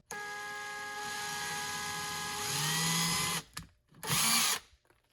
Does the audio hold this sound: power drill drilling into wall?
yes